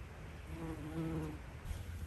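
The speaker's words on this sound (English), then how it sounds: "You can see the bee really enjoys it too." In an Appalachian garden, a bee hums around a flowering plant, its soft wavering buzz drifting close then easing away, fairly faint against a quiet outdoor background with no voices.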